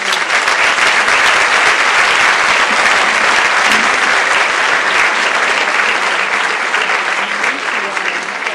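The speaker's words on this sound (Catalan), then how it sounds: "Per a totes elles, vos demane un fort aplaudiment" A festival audience honoring the queens and their courts of honor at the Sueca, El Perelló and Mareny de Barraquetes celebration bursts into loud, sustained applause that fills the hall without a break.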